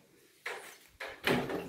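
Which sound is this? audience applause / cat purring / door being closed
door being closed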